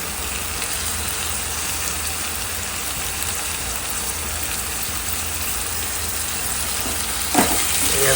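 Tomatoes go into a pan of onions frying for a prawn masala fry, giving a steady, loud hiss and crackle of sizzling oil throughout, with a brief clatter near the end and no talk.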